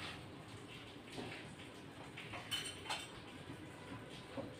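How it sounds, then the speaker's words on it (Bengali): Light drizzle falls on a cloudy day in a faint, steady patter with soft scattered drops and no voices. "আকাশে এখনো মেঘ আছে, বৃষ্টি হচ্ছে।"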